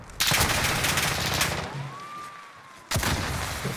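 Gunfire in Call of Duty Modern Warfare aimed at the player: a dense burst of shots opening the moment, a quieter stretch with a whistling tone, then another sharp burst, close and loud.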